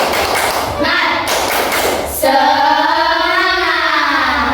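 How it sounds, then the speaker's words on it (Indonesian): A group performs the rhythmic 'tepuk semangat' clap during a classroom ice-breaker: a quick run of sharp claps at the start, then voices chanting and talking together. "kita tepuk semangat dulu ya"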